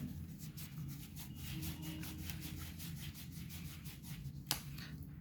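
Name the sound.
rubbing brass with a cloth to polish it with Brasso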